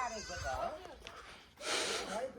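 Four goats, including young kids, bleat at a rural Nepali family home during Maghe Sankranti, with several wavering calls rising close by amid ongoing conversation.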